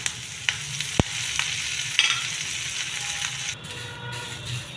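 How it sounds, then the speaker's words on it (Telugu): Curry leaves crackle and sizzle in a small amount of oil in a pan, with a few sharp pops and stirring clicks over a steady frying hiss, close and fairly loud. "కరివేపాకు వేయించుకుందామండి."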